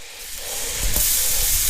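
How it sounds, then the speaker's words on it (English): Thinly sliced onion sautéing in butter in a cast iron skillet, a close, bright sizzle that swells louder and stays steady, with a few soft clicks and knocks underneath. "I let these guys saute for just a little bit with my butter"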